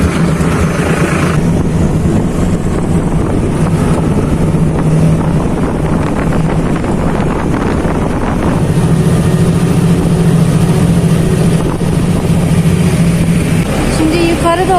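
A loud tractor engine drones continuously up close on a mountain climb, with rumbling vibration and wind buffeting the microphone throughout.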